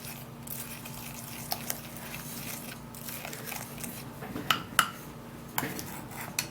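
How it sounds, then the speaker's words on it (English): A spoon stirs grated tomato in a bowl, giving scattered light clinks and scrapes against the dish, soft and close, with no voices. "So we're going to be transferring that into the bowl and we'll stir it again."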